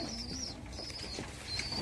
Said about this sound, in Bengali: খুব সুন্দর জাতের এখানে কবুতর রয়েছে।